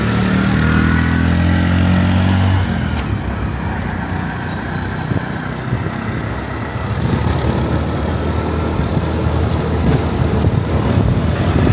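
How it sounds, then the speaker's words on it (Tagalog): Motorcycles pass along a town street in Talakag, Bukidnon, a loud engine drone at first that gives way to a steady, rough rumble of traffic close by. "Mga motor."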